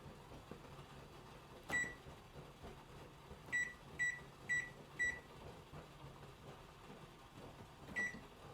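Kitchen timer being set for coffee percolating on a stove, giving a single beep followed by a quick run of four electronic beeps and one more beep, over quiet room hum.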